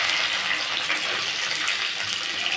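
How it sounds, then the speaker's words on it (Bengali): Onions dropped into a little hot oil, a loud, dense, even hiss of frying that stays steady throughout without any voices. "এই তেলের মধ্যেই আমি দিয়ে দেব হচ্ছে এই পেঁয়াজগুলো।"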